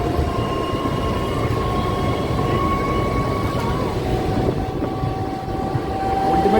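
A DEMU train rolls through a station without stopping, giving a loud, steady rumble with a sustained high whine and tonal hum running the whole time.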